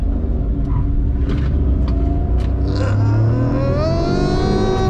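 A Maruti Alto car accelerating hard through its gears, heard from inside as a loud, continuous engine roar whose pitch climbs steadily after a gear change.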